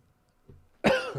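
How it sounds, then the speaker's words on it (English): A single sharp, loud cough close to the microphone, preceded by a faint throaty rumble. "Just let me cough there for a minute."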